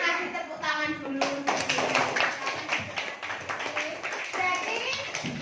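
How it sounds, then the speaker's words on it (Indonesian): A classroom of primary-school children bursts into brisk, scattered clapping for about two seconds, mixed with chatter and a teacher's voice talking before and after. "Benar, kasih tepuk tangan dulu."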